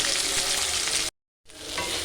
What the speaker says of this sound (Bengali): এবারে আমরা এই কড়াতে টমেটো কুচি আর কাঁচা লঙ্কা দিয়ে খানিকক্ষণ নেড়ে নেব।